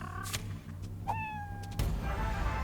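Pet cat in the Fallout Shelter game on PC giving a single clear rising-and-falling meow over a steady low background hum, with a couple of faint clicks before it.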